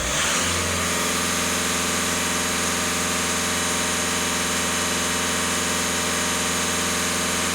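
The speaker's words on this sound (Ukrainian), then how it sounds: "даємо оберти повністю в тапок" A VW Touran 1.6 TDI diesel engine revved hard to full throttle, its roar climbing quickly and then holding a loud, steady high-rev drone with a constant mechanical hum, heard close up throughout.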